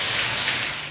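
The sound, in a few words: rain falling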